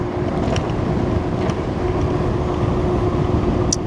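Steady broadband rush of wind and road noise from an Emove Cruiser V2 electric scooter ridden at around 20 mph on a nearly drained battery, with a faint constant motor whine running underneath the whole time.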